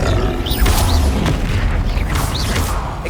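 Booming Confringo spell blasts erupt during a Hogwarts Legacy duel, heavy low thuds with whooshing magical bursts repeating over a dense, continuous wash of combat noise.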